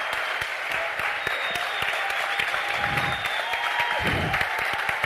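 Audience applause at a book launch, a steady dense wash of clapping from a crowd that holds for several seconds with little variation, no voices standing out above it.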